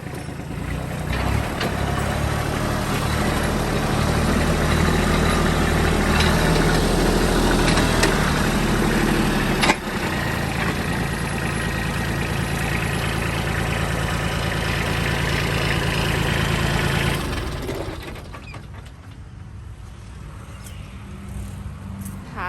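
A used 2011 Kubota B2420 compact tractor engine idles steadily and fairly loud for about 17 seconds, a low continuous diesel rumble that then drops to a quieter, softer running level.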